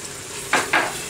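Flour being stirred into melted butter in a pan to form a roux for corn chowder: two short scraping stirs close by, over a faint sizzling background, with no talking.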